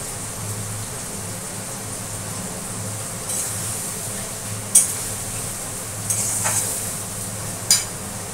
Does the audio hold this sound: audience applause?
no